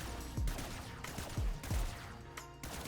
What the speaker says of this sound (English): So if you like shoot the wall, there are a lot of pellets coming out.